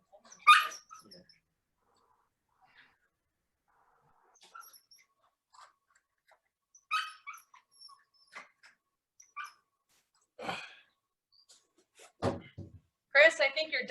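Dogs bark indoors in short, scattered bursts during a home fitness class held over Zoom, a few sharp yaps spread across quiet stretches with occasional talk.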